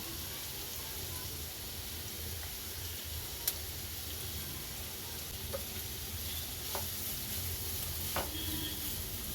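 Cabbage and carrot sizzle steadily in a hot pan for egg rice, a close, even frying hiss with occasional faint clinks of stirring.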